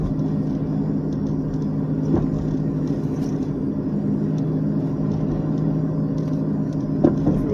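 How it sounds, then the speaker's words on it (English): Traffic with trucks backed up at a gate rumbles steadily from inside a vehicle, a constant low engine and road drone with occasional faint clicks and no talk. "Oh great, traffic's backed up at the gate."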